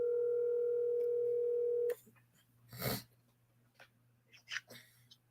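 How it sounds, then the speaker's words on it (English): Telephone call on speakerphone, a steady ringback tone held for about two seconds before cutting off, followed by faint clicks, rustling and breathing. "The phone's ringing. We're going to put it by the speaker."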